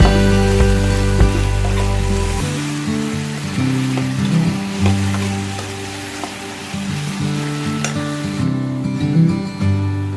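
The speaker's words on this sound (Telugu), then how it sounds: "ఉప్పు యాడ్ చేసి ఫ్రై" Potato pieces fry with salt in a pan, giving a steady sizzle with a few stirring scrapes, close and fairly loud, with a constant tonal hum underneath and no speech.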